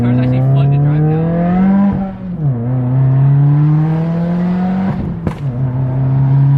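Subaru WRX with a stage 2 off-the-shelf tune and J-pipe exhaust, a loud, steady engine drone rising and falling with revs, with a couple of sharp crackling pops near the end.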